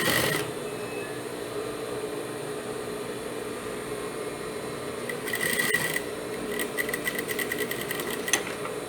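A sewing machine runs steadily as it stitches down a folded seam on a boy's boxer shorts, with a continuous motor whir and brief rapid needle clatter near the end.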